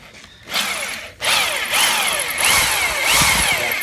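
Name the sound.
power drill drilling out a bolt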